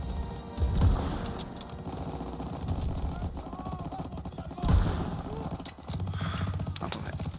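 Weapon fire in the Call of Duty WWII video game rattles in dense, sustained bursts with a couple of heavier booms, while a player talks underneath.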